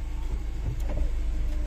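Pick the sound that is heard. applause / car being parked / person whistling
car being parked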